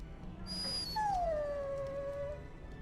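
A dog whimpers in Dragon Age: Origins with one long, drawn-out whine that slides downward and fades. It sits over a steady game background hum, with a brief high tone just before it.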